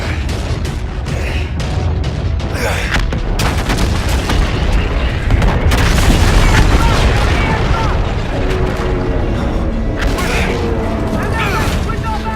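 Dense, continuous gunfire and booming explosions rage through a Call of Duty: Infinite Warfare space battle, with loud bursts, rumbling blasts and mechanical clatter throughout. Shouted commands are heard over the chaos.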